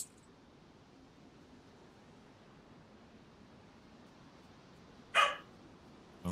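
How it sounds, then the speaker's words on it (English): Dogs barking indoors in a room, one sharp close bark near the end followed by the start of another, over a quiet hiss of background noise. "Oh, excuse my dogs"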